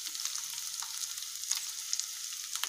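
Boiled eggs are stirred into a pan with garlic paste for a Telugu gongura egg curry, giving a soft continuous sizzle with light scraping stirs, close but quiet.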